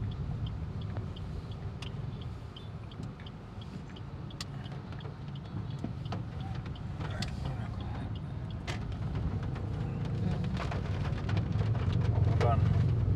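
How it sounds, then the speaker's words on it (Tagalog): Steady rain patters on a car while driving through Zamboanga City in the rainy season, a faint, even wash under a low road rumble with scattered ticks of drops, growing slightly heavier toward the end. "Ulan."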